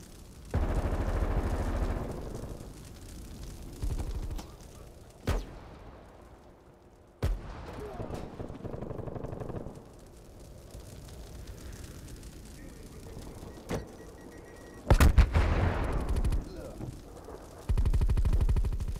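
A nail gun fires in Call of Duty: Black Ops Cold War, with sharp cracks and heavier booming bursts spread across the scene amid rumbling game noise, while a voice talks over it.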